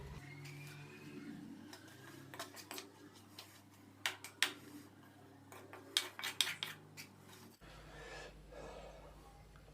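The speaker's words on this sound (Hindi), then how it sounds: "तो एक दफ़ा इसको अच्छे से मिक्स करेंगे।" Masala chicken fry with butter and chopped coriander is stirred in a pan, giving scattered metallic clinks and scrapes of a spoon against the pan that cluster in a quick burst near the end, with soft sizzling underneath.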